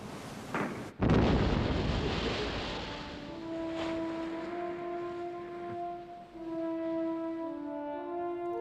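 A sea mine at sea is destroyed by rifle fire, producing a single heavy explosive blast that rolls into a long rumbling roar, then settles under steady wind and surf with faint sustained tones.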